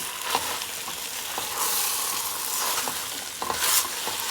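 A lamb stew with grated ginger being stirred in a pot, with a soft sizzle and repeated scraping strokes of a spoon close by, and no talking.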